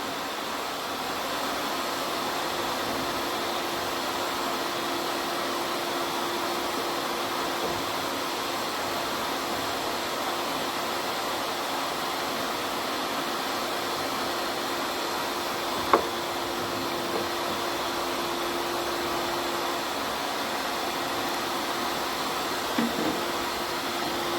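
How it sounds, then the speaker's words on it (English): Workshop vacuum running steadily throughout as a constant broadband roar, moderately loud and near, with a couple of brief knocks near the end and no talking. "Sorry to be a bit noisier over here though, because it's closer to the vacuum."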